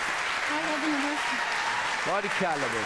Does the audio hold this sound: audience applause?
yes